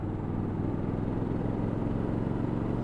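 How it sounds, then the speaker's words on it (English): Triumph Scrambler 1200 XE motorcycle on its standard exhaust, idling with a steady, low, even rumble that holds unchanged throughout, fairly close and with no voices. "It's got a nice exhaust note."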